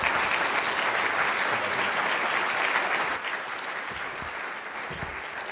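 Applause from a banquet audience at a real estate hall of fame honors dinner, a steady wash of many hands clapping throughout, full and close, easing slightly in the second half with no talk over it.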